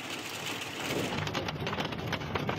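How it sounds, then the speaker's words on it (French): Hailstones batter car hoods during a violent hailstorm in southern France, a dense, continuous hiss-like clatter of countless impacts at moderate distance with no voices. "Le vacarme des grêlons qui s'écrasent sur le capot des voitures."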